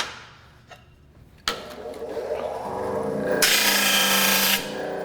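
A powered disc sander grinds a piece of wood: a thump as contact begins, then a steady close abrasive whir that swells into louder rasping for about a second before easing off.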